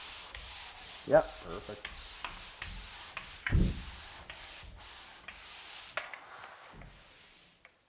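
Steady scratchy rubbing of sandpaper over dried drywall mud on a wall, in repeated strokes up close, with a brief spoken remark near the end.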